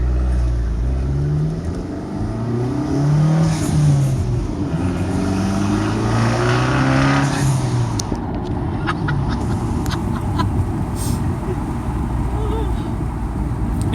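A 2013 Dodge Dart with the 1.4 engine, showing boost problems, gently accelerating on the road; a steady engine drone rises in pitch through the first half and then settles into a broadband road rush.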